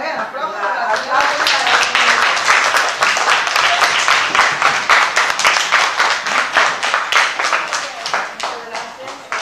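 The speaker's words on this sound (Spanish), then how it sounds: "aplausos." A school audience in Lambayeque, Peru, claps at a book donation event, loud and close, starting as dense applause and thinning into a more rhythmic, synchronized clapping pattern toward the end.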